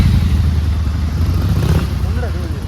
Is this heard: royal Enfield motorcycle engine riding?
yes